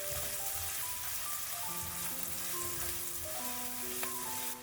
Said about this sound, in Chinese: 利用锅底的热油，放入切好的葱花、姜末、小米辣，翻炒均匀